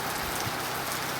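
Heavy rain pours down in a dense, unbroken hiss, loud and steady throughout the brief moment.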